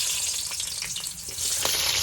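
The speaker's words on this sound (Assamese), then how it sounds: "কেৰাহীখন গৰম হোৱাৰ পিছত ইয়াতে দি দিছোঁ অলপ পিঁয়াজ" Chopped onions sizzle steadily in hot mustard oil in a wok, a close, continuous crackling fry with a few brief louder pops and no voices.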